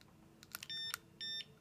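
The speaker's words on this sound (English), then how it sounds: "We will test it with a wireless alarm key." Wireless alarm key fob for a code grabber test gives a few short clicks, then two steady electronic beeps, each about a quarter second long, close and fairly quiet with no talk.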